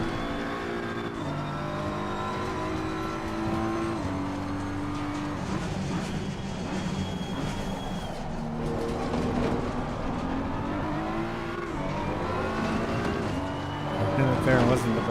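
A McLaren race car in Assetto Corsa Competizione drones steadily through its revs, rising and falling as it upshifts and downshifts, while a driver talks over the engine.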